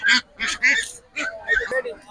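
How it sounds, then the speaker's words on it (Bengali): Native domestic ducks at a market quack close by in a quick run of harsh, nasal calls, several overlapping over about two seconds. "মাশাআল্লাহ, হাঁসগুলো খুব সুন্দর লাগতেছে। এটা তো দেশি হাঁস না?"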